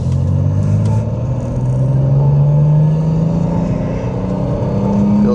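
A BMW G87 on Hoosier slick tires cruising at freeway speed around 60 to 65 mph, a loud steady engine drone with a slowly rising pitch and continuous road rumble from inside the car, no talking.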